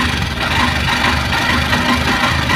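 A faulty Honda Shine SP BS6 motorcycle engine runs roughly and loudly, a harsh continuous rattling drone with a steady low hum underneath, close to the listener.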